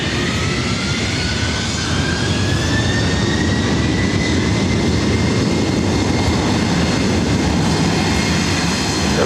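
A Delta heavy jet taking off from runway 24 right at LAX, a loud, steady engine roar with a rising whine, sustained throughout and close.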